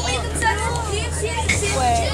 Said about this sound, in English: Wait, the noise you hear in the background, I'm on the bus.